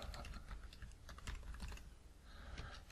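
Quick, steady keystrokes on a Chromebook keyboard as a title is typed, close and crisp with irregular bursts of clicks and a short pause near the end, no talking.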